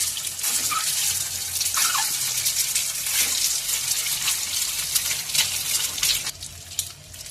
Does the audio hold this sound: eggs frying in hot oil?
yes